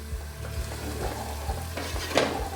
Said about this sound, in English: I'm just going to let the ginger and the garlic cook through